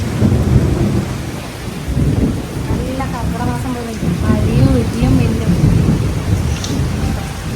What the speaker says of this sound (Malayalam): നല്ലൊരു മഴ കേട്ടാ.